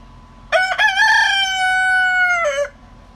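A single loud, close rooster crow, a long drawn-out cock-a-doodle-doo standing alone against a quiet background.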